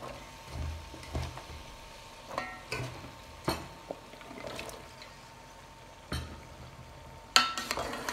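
Bottle gourd and cumin seeds frying in oil, with a low hiss under a handful of scraping stirs and spatula knocks spread across the clip, one sharper clatter near the end.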